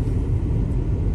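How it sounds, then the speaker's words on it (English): Inside a car moving along snow-covered roads, a steady low rumble of engine and tires fills the cabin, constant and uninterrupted with no voices. "now we are now in the car. We are driving to our destination"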